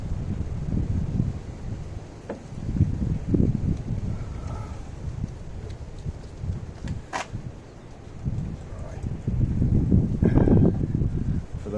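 Gusty wind buffets the microphone in uneven low rumbling waves, swelling and easing over several seconds, with no speech.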